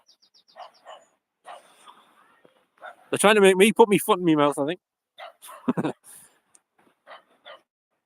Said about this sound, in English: Dogs are barking over there.